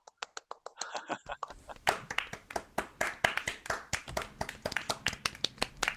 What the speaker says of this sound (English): Everybody give a lovely round of applause to Zello and everyone in the Lolly Squad who moderates these lovely events.